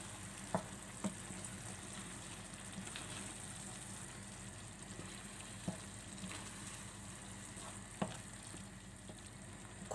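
Ajvar pepper sauce cooking in a pan, a continuous low bubbling sizzle with a few soft knocks of a spoon stirring, close by.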